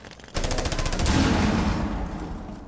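Gunfire in the video game Rainbow Six Siege: a sudden loud burst of rapid automatic shots, dense and close, trailing off into a decaying roar over about two seconds.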